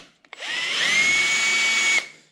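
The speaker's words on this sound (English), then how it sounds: "I'm going to come over to the drill press" A drill press drilling a 1/2-inch hole for a Ford 5000 tractor park brake part whirs up to a steady high-pitched whine for about two seconds, then spins down, close and loud.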